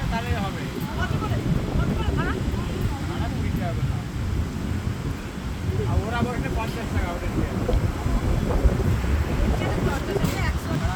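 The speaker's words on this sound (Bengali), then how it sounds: "পুরীর মতো ঢেউ আর কোনো সমুদ্রে পাওয়া যায় না" Ocean surf breaks on the beach at Puri, a continuous rushing roar of waves buffeted by heavy wind on the microphone, with voices talking underneath.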